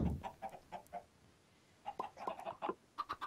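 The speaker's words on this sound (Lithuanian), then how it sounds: "Ką daryti su šitą vištą?" A Minecraft chicken gives soft, short clucks in two quick runs separated by a brief pause, faint and alone with no talk.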